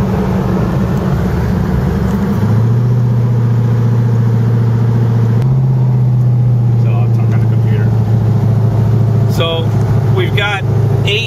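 A twin-turbo LS-powered Camaro idles steadily at about 900 rpm, a loud continuous low engine drone that shifts slightly in pitch partway through, with brief faint sounds near the end.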